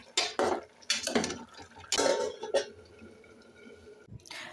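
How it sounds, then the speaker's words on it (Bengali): Stirring peanut and dried chili paste into a vegetarian curry in a bowl. A utensil scrapes and clinks against the bowl in several short bursts with brief pauses, close and fairly quiet, ending with faint wet mixing sounds. "বাদাম আর শুকনো লঙ্কা বাটাটা দিয়ে একটু নাড়িয়ে দেব"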